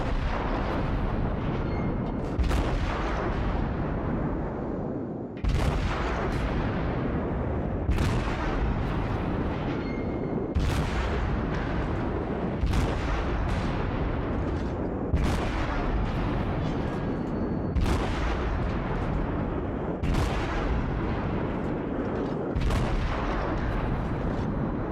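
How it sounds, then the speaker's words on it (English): Naval video game ship guns fire armour-piercing shells in a repeating series of about ten heavy booming salvos a couple of seconds apart, each a loud broad blast with a rumbling tail over constant background rumble. "Even shooting at the front right here, I'm getting deflections off the ship."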